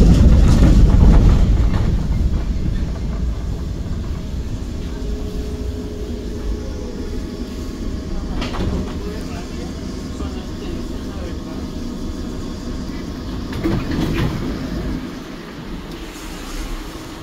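A metro train runs past outdoors at Leyenburg in The Hague, giving a steady low rumble and rolling noise under gusting wind against the microphone, while a person talks over it.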